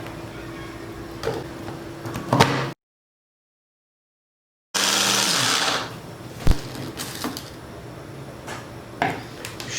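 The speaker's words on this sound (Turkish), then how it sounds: "Şimdi hepsini aynı şekilde çekeceğim" A food processor grinds cake ingredients into a fine powder in loud whirring bursts, running, cutting off to silence, then starting again with a strong roar before settling into rattling pulses.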